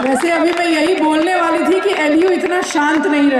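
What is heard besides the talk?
None of the usual background noises is heard.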